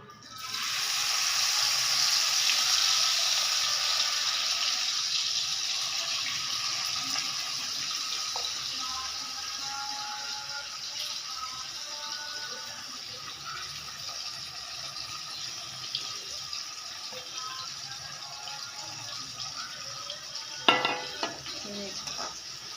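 Small kachki fish sizzling and frying in a wok, a steady loud hiss with occasional stirring clatter and a sharper clink near the end.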